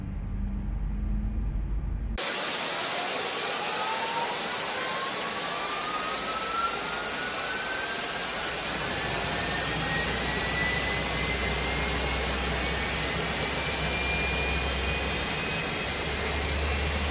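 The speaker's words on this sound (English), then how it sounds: "We go ahead and fire up engine 1." An Airbus A320ceo jet engine spools up in a flight simulator during pushback, a rising whine sweeping upward over a broad roaring rush that builds and then holds loud and steady.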